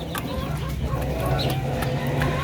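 Darag native chickens cluck close by in a series of short, irregular calls over a steady low hum, with soft scattered background noise.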